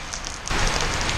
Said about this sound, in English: Now it's raining super hard.